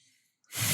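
An allergy sneeze: a brief quiet intake, then one sudden loud burst of breath close to the mic.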